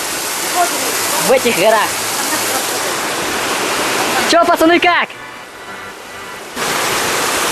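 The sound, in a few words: waterfall in Cherkasay gorge mountains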